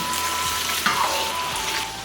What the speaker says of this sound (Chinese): 把鱿鱼须倒入锅中，用高油温把鱿鱼须拉一遍